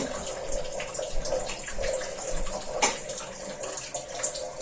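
Tap water running into a kitchen sink: a steady splashing stream that continues for the whole stretch at moderate volume, with faint clatter and no clear speech.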